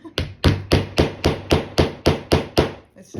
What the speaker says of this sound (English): I'm gonna give it one more bang. Hang on, I'm gonna get a bigger hammer.